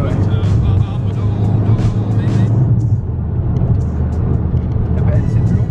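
Alfa Romeo MiTo turbo in sport mode accelerating from a standstill uphill, a steady loud engine and road drone heard from inside the cabin, with people talking over it.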